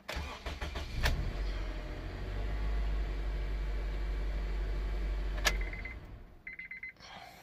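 A third-generation Honda CR-V engine cranks and catches after starter work, settling into a steady low idle close by, followed by a few clicks and short electronic beeps as it shuts off.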